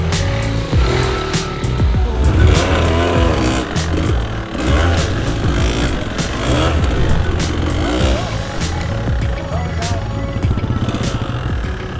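A Kawasaki KDX200 dirt bike is ridden on a road, its two-stroke engine revving loudly and steadily throughout, with rising and falling pitch as the rider accelerates, close to the microphone.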